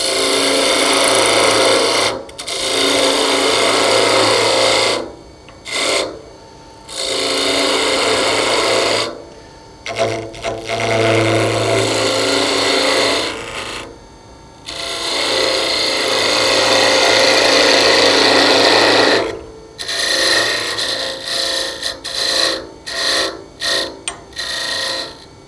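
A wooden Christmas tree base is shaped on a woodturning lathe with a skew chisel. Rasping cuts come in bursts broken by short silent gaps, close and loud.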